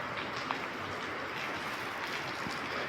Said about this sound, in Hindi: ये देखो भाई, सुबह सुबह बारिश पड़ रही है अभी भी तगड़ी वाली, और यहाँ भी बारिश गिर रही है।